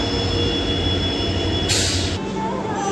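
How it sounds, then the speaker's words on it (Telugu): A goods train hauled by a WDG4 diesel locomotive from the Kazipet shed rolls past with a steady, dense rumble and rail noise, close and continuous, with a brief high squeal midway. "మాల్గాడి వెళ్తుంది, WDG4. Kazipet shed locomotive."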